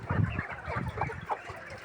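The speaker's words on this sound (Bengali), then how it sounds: "এখন সবগুলো মুরগি খাবার খাচ্ছে।" Farm chickens cluck softly while eating feed, a few close, low, irregular clucks in quick succession.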